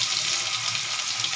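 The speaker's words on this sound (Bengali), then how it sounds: "5 ফোড়নটা একটু ভাজা ভাজা হয়ে যাক।" Panch phoron spices frying in hot oil in a wok, giving a continuous close, bright sizzle with slight crackle and no pauses.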